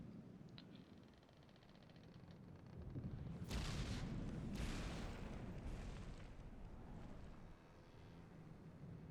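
Ship guns fire in From the Depths, a Minecraft-style QE2 design, as a heavy deep rumble swells with a few broad blasts, fairly distant and muffled, then settles back to a low roar.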